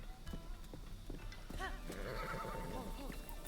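A horse in The Legend of Zelda: Breath of the Wild moves at a slow canter through Kakariko Village, with steady clip-clop hoofbeats and a whinny. Game ambience sits underneath, and light talk is possible in the background.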